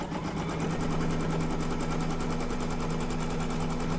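An embroidery machine stitching down appliqué fabric over batting in the hoop for an in-the-hoop mug rug, running as a steady, fast, close mechanical rattle with no talk over it.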